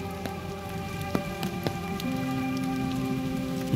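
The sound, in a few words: rain falling in a forest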